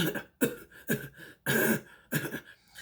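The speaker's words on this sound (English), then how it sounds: "he just starts coughing uncontrollably" Repeated harsh coughs in a series of five or six bursts, loud and close, one after another with short gaps between them.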